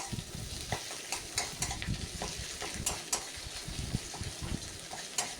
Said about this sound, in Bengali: এরপর কোচানো টমেটোটা আমি দিয়ে দিচ্ছি এতে